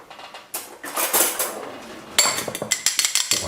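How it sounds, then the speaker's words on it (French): Whisking an egg with a utensil in a bowl for a tomato-and-mozzarella meatball mixture, producing rapid clinking taps against the dish, sparse at first and then a quick, steady rattling run of strokes. "On va battre l'œuf et on va le rajouter à la préparation."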